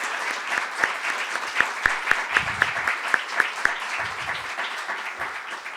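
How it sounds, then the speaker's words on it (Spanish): A lecture audience in a library applauds after a conference talk on Colombian jazz, a dense steady patter of clapping with a few louder individual claps standing out, lasting several seconds. "les pido un último aplauso para Sergio por esta conferencia"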